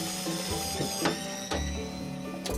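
A small Ryobi power screwdriver whirs steadily as it takes the grounding cable screw off a Pit Boss grill, with a few sharp metallic clicks and knocks over the motor hum.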